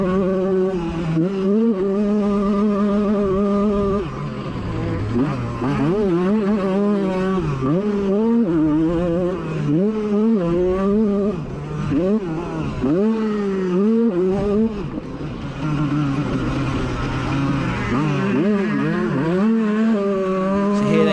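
Motocross bikes race bar to bar, among them a 33-year-old Honda CR125 two-stroke, engines screaming and revving up and down through gear changes, loud and continuous for the whole stretch with several machines overlapping.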